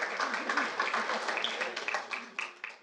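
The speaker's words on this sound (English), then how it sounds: "Round of applause for Coach Moon" Moderate applause from a city council meeting audience honouring a coaching staff, fairly quiet clapping that rises and dips over a few seconds with voices mixed in.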